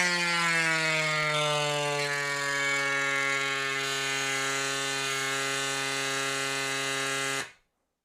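A mini air compressor runs through a TPU hose with a loud, steady buzzing whine that holds for several seconds before cutting off abruptly into silence.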